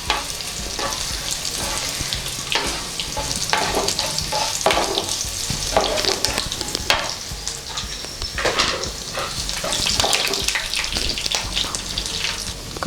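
Dried red chillies and curry leaves fry in a pan for a red chilli pickle, loud crackling sizzle with repeated scraping stirs and occasional spatters, no talking.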